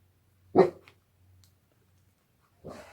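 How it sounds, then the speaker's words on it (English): A dog named Chevy barks indoors at a passerby outside the house: one sharp bark, a short pause with faint whimpering, then a second bark starting, fairly close and without talk. "it's my dog in the background there"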